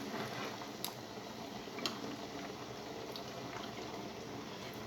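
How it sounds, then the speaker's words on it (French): Heated broth poured into a pan of rice for a riz du senyoret, a steady liquid rush and sizzling simmer with a few faint clicks, no talking. "Et maintenant on verse donc notre bouillon qu'on a chauffé avant"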